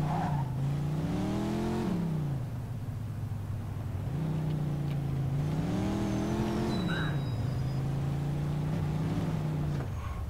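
Old Mercedes car in the video game Mafia II, a steady droning engine that rises and falls with gear changes over ten seconds, loud and continuous with no talking.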